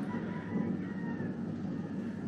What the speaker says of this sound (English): Can hear the roosters crowing.